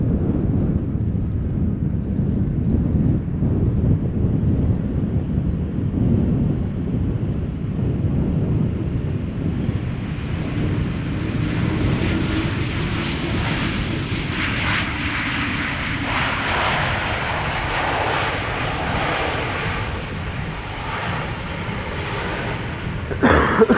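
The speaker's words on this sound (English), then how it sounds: "it will look like a regular E2 Embraer from our point of view. Having arrived from Göteborg, touching down now" An Embraer E2 airliner touches down at Amsterdam Schiphol Airport after a flight from Göteborg, its engines a broad distant roar that rises and shifts steadily, mixed with wind noise on the microphone.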